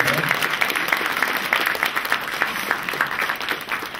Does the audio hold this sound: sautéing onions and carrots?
no